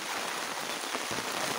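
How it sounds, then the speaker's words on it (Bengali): Heavy rain falls on a flooded road, a dense, steady hiss of drops pattering on water and hard surfaces, close and unbroken, with no voices. "প্রচণ্ড বৃষ্টি হচ্ছে।"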